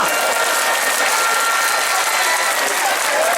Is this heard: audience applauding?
yes